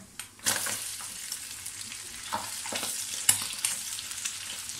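Soft frying crackle of crushed garlic in a pan, with a few scraping stirs and light pops over a quiet background.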